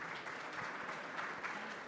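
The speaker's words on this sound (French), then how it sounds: "On l'applaudit aussi." Faint, brief applause at an awards ceremony, a small crowd clapping at a distance for a couple of seconds.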